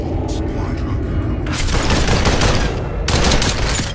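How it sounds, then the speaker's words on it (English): Gunfire in a battle royale video game: bursts of rapid automatic shots crackle in two loud volleys over a steady game background. "I'm already being shot at."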